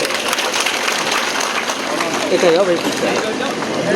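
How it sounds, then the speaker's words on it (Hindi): A large crowd at a public speech claps in welcome, a dense, continuous wash of applause, loud and steady throughout, with a voice carrying faintly over it partway through. "थोड़ा ताली बजाकर स्वागत करो"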